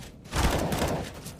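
Rapid gunfire spam in Counter-Strike on the Inferno map during a competitive esports match, a dense continuous burst of overlapping shots after a brief quiet start, loud and close.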